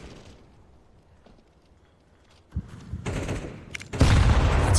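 A grenade blast in a competitive Counter-Strike match bursts loud and close after a quiet stretch, with another heavy burst near the end amid crackling gunfire, no talk.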